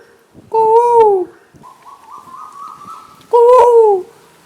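A man imitates a pigeon's coo with his voice: two loud, warbling two-tone coos separated by a softer, lower hum, close to the listener and with no other sounds around them.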